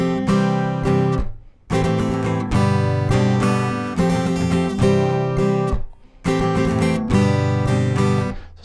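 A guitar strums the chorus chords of a song in an altered rhythm pattern, playing bright, full chords in steady bursts with brief gaps, and no voices over it.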